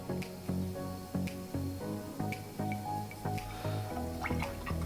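A paintbrush is rinsed in a water jar between colours, with a run of rhythmic swishing and tapping strokes against the container, close and fairly quiet, no voice.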